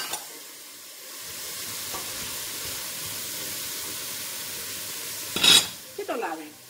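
Spring onion, leek and onion hit a hot pan for shrimp with orzo, giving a steady soft sizzle throughout, then a sharper burst of clatter and stirring near the end.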